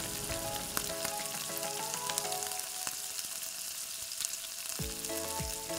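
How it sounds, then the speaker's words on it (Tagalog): Tomatoes and black pepper sizzle steadily in a pan as dried anchovies (dilis) are cooked, with scraping stirs and clinks of the utensil heard up close over the continuous frying hiss. "ilagay na po natin ang ating black pepper pampalasa. And i-mix well lang din natin."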